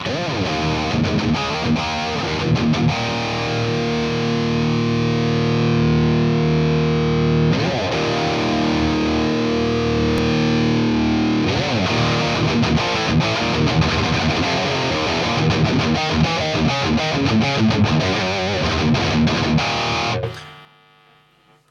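Heavily distorted, high-gain electric guitar through a Driftwood Purple Nightmare tube amp, playing loud chords and riffs continuously, thick and saturated, ending abruptly near the close.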